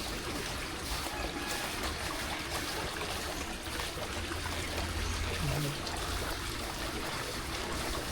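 Water in a countryside stream runs with a steady, close burble and splash, while a faint low hum sounds briefly partway through.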